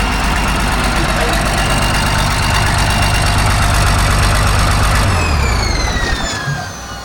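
An Allis Chalmers 645B loader's diesel engine idling after starting, a loud, steady low rumble heard close by that eases off toward the end as faint higher whines come in.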